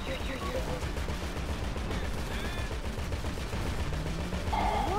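Rapid gunfire crackles continuously through a dense, noisy Grand Theft Auto V soundscape, with bursts overlapping at a steady distance.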